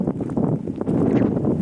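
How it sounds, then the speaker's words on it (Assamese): Strong wind at high-altitude Gurudongmar Lake buffets the microphone in a loud, close, continuous rumble with irregular gusty thumps. "ইমানেই বেছি বতাহ দি আছে"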